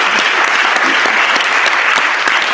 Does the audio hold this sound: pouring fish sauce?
no